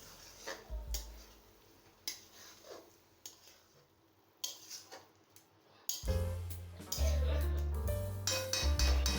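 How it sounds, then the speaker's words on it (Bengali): Fried prawns being stirred in a pan for a Bengali thor chingri dish with Gobindobhog rice: scattered clinks and scrapes of a utensil against the pan, faint at first, then a louder busier stretch of clatter with background noise in the second half. "চিংড়ি মাছ দিয়ে নেড়ে মিশিয়ে নিচ্ছি।"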